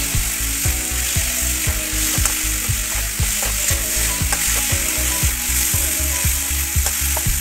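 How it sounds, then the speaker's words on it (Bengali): Garlic, cumin powder and salt frying in a pan and stirred, with a constant loud sizzle broken by a regular series of scraping utensil strokes, no talk. "আবারও ভালো করে নাড়াচাড়া করে নেব।"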